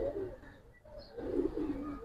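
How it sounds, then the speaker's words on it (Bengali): A pair of kaldam pigeons at a pigeon fair coo softly in low, throaty bursts, close by and alone, with a brief quieter pause in the middle. "ফার্স্টে একজোড়া কালদম কবুতর দেখাবো ভাই"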